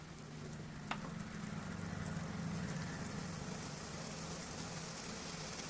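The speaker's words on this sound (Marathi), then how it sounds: "हे बॉईल करायला ठेवलेलं पाणी आहे, त्यामध्ये आपण ही मिरची 10 मिनिटं जवळजवळ उकळून घेणार आहोत." Water heats in a pot with green chillies, giving a faint, steady bubbling hiss that continues evenly throughout with no talk.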